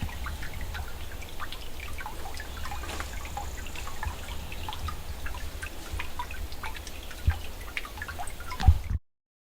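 Water drips inside an old drift mine near Trussville, with faint scattered drips over a steady low rumble of running water, and a couple of louder, closer drops near the end.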